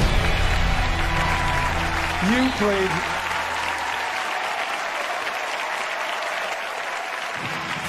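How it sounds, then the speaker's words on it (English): Studio audience applause for Meat Loaf and Pearl Aday on a televised game show, a steady dense roar of clapping through the whole stretch with a voice speaking briefly over it near the start. "We're going to walk away, give Meatloaf a big round of applause"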